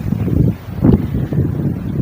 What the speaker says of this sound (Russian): надеюсь, вам ветер сильно не задувает